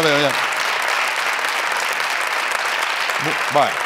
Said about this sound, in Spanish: Muchas gracias porque a mí esos aplausos me dan la vida.